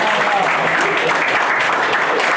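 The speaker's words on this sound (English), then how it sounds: "And you can applaud if you'd like to." Loud, dense applause from a wrestling show audience fills the room steadily throughout, with a few voices mixed into the crowd noise.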